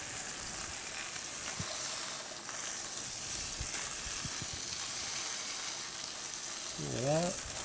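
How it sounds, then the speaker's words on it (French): A garlic clove and spinach sauté gently in a pan beside a roasting free-range capon breast. The sound is a soft, continuous, even hiss, with a few faint taps and a brief squeak near the end. "Une gousse d'ail. Voilà. On va faire revenir ça très gentiment."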